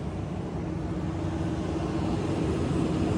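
A stacker machine with a faulty engine runs nearby, a steady low mechanical drone and rumble that stays constant and fairly loud with no talk over it.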